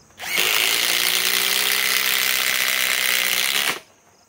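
Hercules 2200 inch-pound impact wrench runs in one continuous loud burst of about three and a half seconds, a dense close whirring hammer that starts and stops abruptly.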